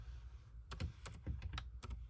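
Quiet keystrokes on a computer keyboard: a handful of soft, irregular clicks tapped out over a couple of seconds, close by and with no talking.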